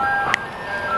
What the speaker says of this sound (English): They got an ice cream truck